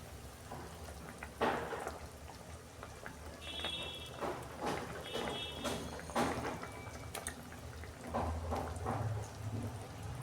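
Pabda fish drop into a pan of boiling spice paste with yogurt on a gas flame, bringing a crackling, bubbling sizzle with sharp spatters and pops, close and moderately loud, without speech.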